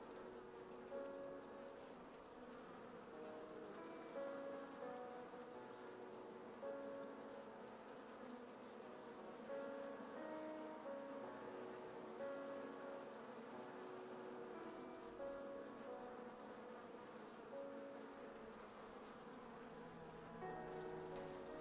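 Steady, continuous buzzing of bees in the hive-building video game Hive Time, a layered insect drone with faint tonal game music running through it, holding at an even level throughout with no voices.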